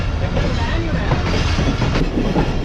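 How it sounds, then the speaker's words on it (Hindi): Karachi Express passenger train running at speed on its rails in heavy rain, a dense, steady rumble with rhythmic clickety-clack from the wheels throughout, close and loud, no talking. "हमारी ट्रेन कितना रुकते रुकाती हुई आई है"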